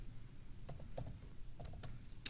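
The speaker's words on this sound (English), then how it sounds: "And here in the notes, I'm going to type hourly rate" A handful of quiet keystrokes on a computer keyboard as notes are typed into a Microsoft Access table, soft close clicks spaced irregularly over low room hum, no voices.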